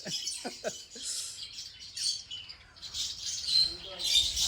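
Lovebirds at an exotic bird park in Pondicherry, giving high, shrill chirps and squawks from a few birds nearby, with short voiced calls at the start and bursts of chattering throughout.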